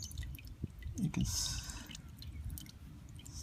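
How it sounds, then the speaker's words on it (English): Engine oil drips slowly from the drain of a 2014 Mazda 3 during an oil change. Faint, sparse patters and a brief wet splash sit over a low background hum, and someone speaks quietly nearby. "it's just about done dripping"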